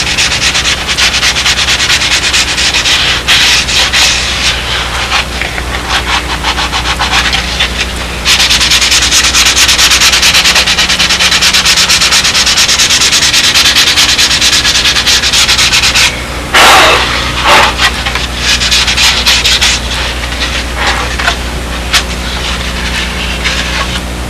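Hand sanding works over a wooden model fuselage, a loud, close, continuous rasping scrub in long sustained passes with a short pause near the end and no speech.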